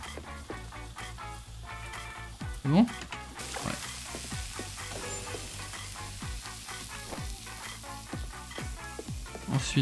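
A steak sizzling on a grill in the restaurant simulator game Chef Life, a soft steady frying hiss punctuated by recurring clicks and kitchen blips throughout.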